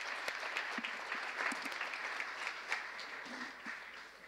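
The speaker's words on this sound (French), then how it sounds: "Félicitons en les applaudissant nos intervenants." An audience applauds the speakers at the close of a conference session on the post-2015 agenda and migration, a steady, fairly faint wash of many hands clapping with a few sharper claps standing out.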